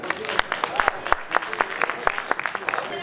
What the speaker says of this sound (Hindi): राजा साहब के लिए भरपूर तालियां होनी चाहिए।